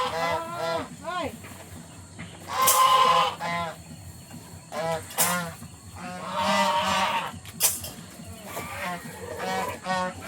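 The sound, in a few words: geese honking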